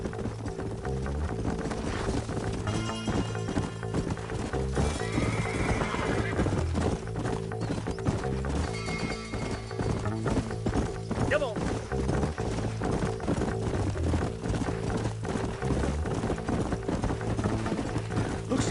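Horses neigh and hooves clip-clop in the Western video game Red Dead Redemption on PS5, the whinnies and steady hoofbeats sitting in a dense, continuous game mix with a music bed and voices.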